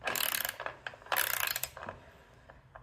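Ratcheting wrench clicks in quick bursts while tightening a bolt on a top or side luggage case mount for a 2025 Triumph Tiger 900 Rally Pro, close and fairly loud with short pauses between runs.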